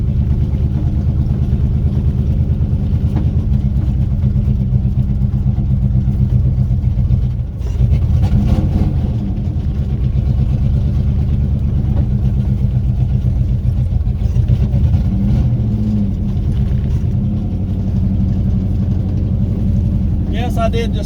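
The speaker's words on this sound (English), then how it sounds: "Roaming the farm with the old blue Ford one more time." An old blue 1976 Ford F150 pickup, long abandoned, rumbles steadily while driving around a farm, its engine drone loud and constant with a brief surge midway and a rising whine near the end.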